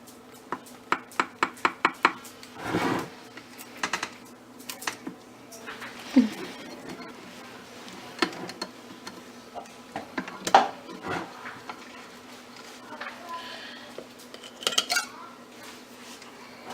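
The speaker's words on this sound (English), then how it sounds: "So we're gonna slice it up and plate it." Tres leches cake being sliced and plated, with repeated close metal knife and server clinks against a plate, clustered taps early on and scattered clatters of cutlery and dishes afterward, some faint background talk.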